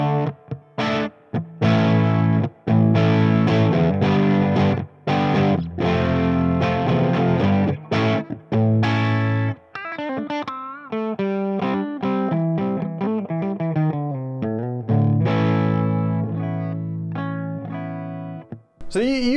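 A distorted electric guitar through a Marshall JCM900 Dual Reverb amp chugs loud palm-muted chords, then shifts into ringing single-note bends and lead phrases, with a slight reverb tail.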